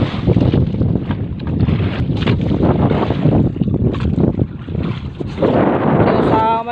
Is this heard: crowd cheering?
no